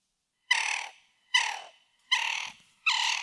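Four processed, pitched-down reversed sounds, each swelling quickly and cutting off, evenly spaced like harsh caw-like calls, fairly loud with silence between.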